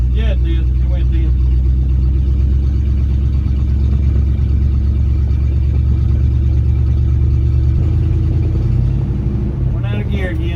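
A 1971 Dodge D100 pickup engine, long abandoned, catches and runs with a steady loud rumble throughout, with the idle shifting near the end; voices talk over it.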